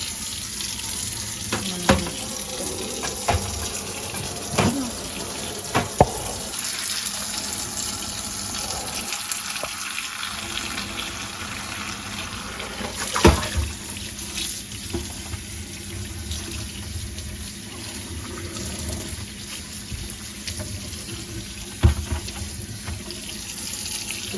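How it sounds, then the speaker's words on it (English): Warm water runs steadily from a kitchen tap while an item is washed with Dawn dish soap at the sink. The water keeps a close, continuous splash, broken by occasional clunks and knocks, and no one speaks. "I'm just cleaning this with a little bit of Dawn and some warm water"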